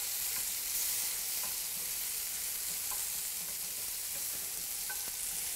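Tomato slices frying in a pan on a stovetop as a topping for Guatemalan bistec, giving a steady broadband sizzle with a few faint pops and clicks throughout, no voices.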